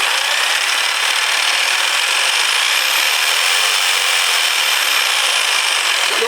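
A Bosch GST 80 PBE jigsaw runs at a constant speed, giving a loud, steady, high-pitched whirring rasp that holds evenly throughout with no talking.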